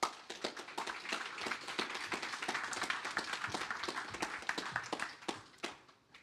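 A conference audience applauds at a summit stage, with dense, steady clapping from many hands that carries on for several seconds before tapering off near the end.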